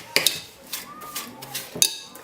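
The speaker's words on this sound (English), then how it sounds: "Begin by beating together the sugar and the butter. Use the back of a spoon" A spoon beats butter and sugar together in a bowl, giving a few sharp metallic clinks and scrapes spread over a couple of seconds, fairly close and moderately quiet.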